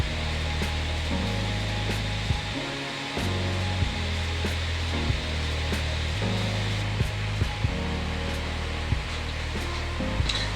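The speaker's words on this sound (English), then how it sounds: "It has an exhaust fan here which vents out over the screen, whereas this one vents out the back." A laptop exhaust fan vents out over the screen, running under benchmark load: a steady, loud broadband whoosh with a constant low hum, heard alone with faint clicks.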